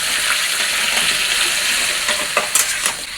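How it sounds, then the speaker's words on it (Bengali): Snake gourd being stirred and fried in a pan with green chillies and onion, a steady broad sizzle with a few scraping stirs near the end, close and fairly loud with no talk. "এগুলো হালকা নেড়ে দেবো।"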